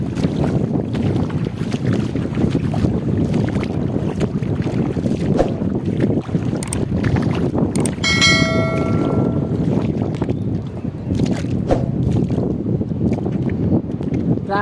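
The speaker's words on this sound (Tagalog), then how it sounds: "Grabe, napakalakas ng hangin mga kabots." Strong sea wind buffets the microphone on a coastal mudflat near Panabo City, a loud, constant roar with gusty surges and a few brief higher tones midway.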